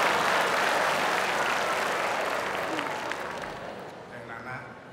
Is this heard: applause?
yes